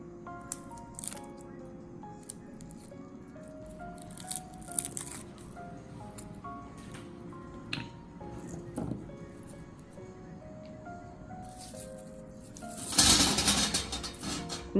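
Garlic cloves are peeled with a bottle cap, giving soft intermittent squishing, scraping and small clicks up close, ending in a louder burst of rattling friction.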